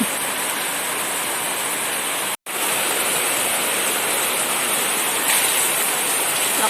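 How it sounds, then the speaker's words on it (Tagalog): Heavy rain pours down in a dense, loud, continuous roar that breaks off once for an instant and then carries on unchanged. "Lakas ng ulan."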